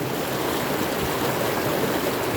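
River water at the Gaula barrage on the Gaula river in Uttarakhand rushes in a steady, full broadband roar, close and continuous with no breaks.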